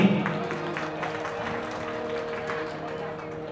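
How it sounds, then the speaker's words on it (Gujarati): A crowd at a Gujarati comedy dayro (folk humour show) claps for a comedian: dense, steady applause throughout, with a sustained voice or tone carrying over it. "એમના માટે પણ એકવાર આપણે જોરદાર તાળી કરવાની છે"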